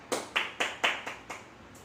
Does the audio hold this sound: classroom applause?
yes